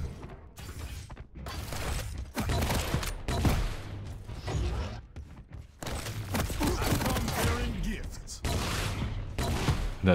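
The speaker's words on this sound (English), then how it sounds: "just beautiful rockets all around" Rocket explosions in the arena shooter Quake Champions, a dense run of bursts and blasts in repeated clusters with short gaps between them, loud and close, mixed with game effects and a commentator's voice.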